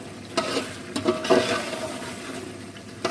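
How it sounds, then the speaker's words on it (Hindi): Chicken pieces are roasted in a pan with salt, chilli and spices for aloo chicken, with a steady close sizzle broken by a few louder stirring scrapes. "हम अच्छी तरह से भून लेते हैं चिकन की।"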